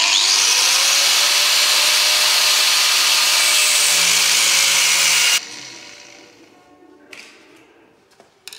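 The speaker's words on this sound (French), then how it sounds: "Donc là, on va lui créer, avec la disqueuse toujours, une petite entaille." An angle grinder cuts a shallow notch into a wooden handle, its loud high whine held steady for about five seconds before it abruptly stops, followed by a few faint taps and knocks.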